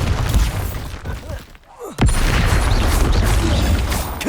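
A Bombarda spell blast in the video game Hogwarts Legacy bursts loudly near the start, then a booming explosive impact hits around two seconds in, followed by a sustained dense rumble of debris and effects.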